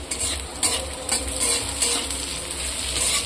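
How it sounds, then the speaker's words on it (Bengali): Green chillies stirred and fried in a pan for an egg dish, a steady close sizzle with scraping spatula strokes and clinks throughout, no talk. "এবার আমি এটাকে ভালো করে নাড়াচাড়া করে একটু ভেজে নেব। প্রথমেই আমি কাঁচা লঙ্কাগুলো তুলে দিচ্ছি।"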